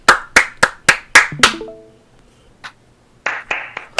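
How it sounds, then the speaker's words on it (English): Sharp, close hand claps heard during a podcast recording: six quick, evenly spaced claps, then a lull with a single faint tap, then a few more looser claps at the end, all alone with no talk. "And then Round of applause."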